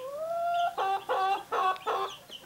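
Several chickens clucking close by in short, loud bursts, four clustered calls following a rising tonal squawk, with no talking.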